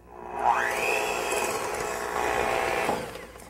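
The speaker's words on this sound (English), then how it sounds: "We're going to stir it up, with the mixer." An electric mixer stirs cookie dough with confectioner's sugar for candy cane cookies: a steady motor whine climbs in pitch, holds for a couple of seconds, then cuts off. It is close and alone, with no talking.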